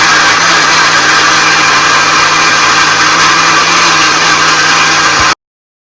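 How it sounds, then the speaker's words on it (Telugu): A kitchen mixer grinder whipping cream into frosting for a chocolate cake runs as a loud, continuous motor whir, close by and unbroken, before stopping abruptly. "నా దగ్గర అది లేదు కాబట్టి మిక్సీ పడుతున్నాను"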